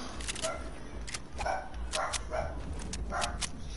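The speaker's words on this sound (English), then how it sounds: "This is my dog." A pet dog barks in a run of sharp, fairly close yaps, about a dozen in quick bursts, over a steady low background hum.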